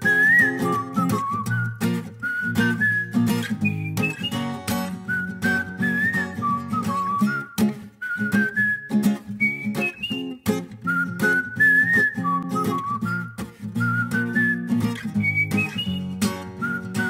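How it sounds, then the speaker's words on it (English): A melodic human whistle carries the tune over a full live band playing a rock song in a crypt session, steady and prominent for the whole stretch. "Whistling."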